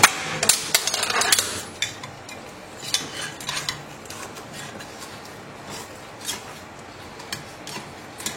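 A blade cuts through freshly made, still-hot almond nougatine of sugar and glucose: a burst of sharp cracking and clattering, then scattered lighter clicks and taps spaced irregularly, fairly close and not loud.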